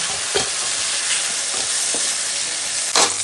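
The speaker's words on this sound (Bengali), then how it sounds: "এখন এখানে আমি বেগুনগুলোকে অল্প ভাজিয়ে নিচ্ছি।" Eggplant pieces frying and being stirred in a hot pan for a tengra fish dish, a steady close sizzle with a few scraping stir strokes, no talk.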